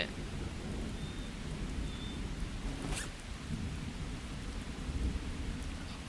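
Steady heavy rain hisses throughout, with a low rumble of thunder rolling underneath, in the video game Miscreated; no voices are heard.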